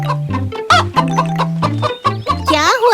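A cartoon hen in a children's animation clucks in a run of loud, close, rhythmic clucks with rising squawks near the end, standing alone without speech.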